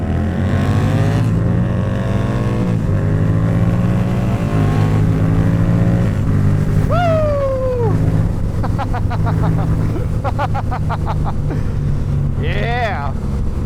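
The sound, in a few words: Harley motorcycle accelerating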